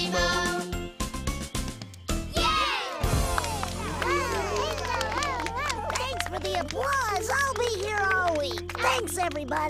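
Children cheer and clap after the Bingo farmer-and-dog song outdoors, a lively close crowd of young voices with a tinkling jingle, excited shouts rising over steady clapping for several seconds.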